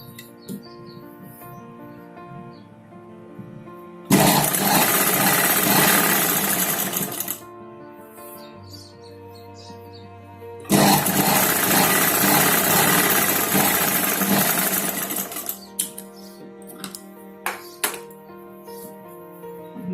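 A sewing machine stitches the lining into a four-tuck blouse in two loud, steady bursts of about three and five seconds, with quieter room sound and faint bird chirps between them.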